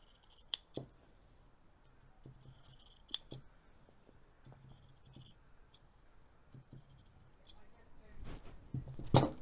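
Scissors snip through fabric for a sewing project, with a few sharp isolated cuts and a busier rustling burst of cutting near the end, close and fairly quiet.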